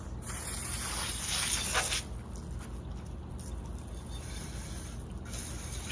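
Water splashes and gurgles loudly as an empty pear cider bottle is rinsed, with a strong rushing spray for about two seconds, then a quieter steady trickle and sloshing.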